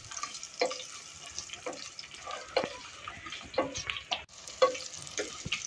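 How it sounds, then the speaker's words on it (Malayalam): Green chillies and curry leaves sautéed and stirred in a pan while making Kerala-style kalan curry, a soft continuous sizzle with repeated scraping strokes of a spoon at a steady pace, close, with no speech. "അതിനുശേഷം നമുക്ക് മുളക് കൂടി ചേർത്ത് നന്നായി ഇളക്കിയെടുക്കാം ഞാൻ കറിവേപ്പില ഇട്ട് കൊടുക്കണം"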